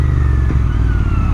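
A motorcycle engine drones steadily up close, broken by a single sharp exhaust pop partway through.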